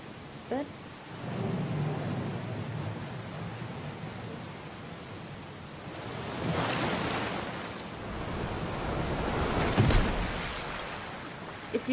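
Rushing water during a boat ride down a waterfall in the video game Syberia 3: a steady, broad roar of churning water that swells in a few surges, with no talk.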